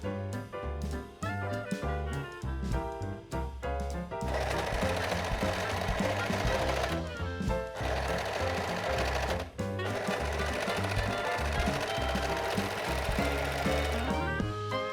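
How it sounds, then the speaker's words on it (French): A serger overcasting the seams of a braided summer dress, its motor whirring loudly in fast bursts and then running steadily for long stretches, with short stops between runs. "Et maintenant, on va surfiler."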